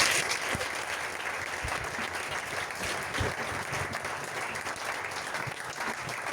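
A church congregation applauds in steady, dense clapping that holds at a loud level throughout, with no clear voices.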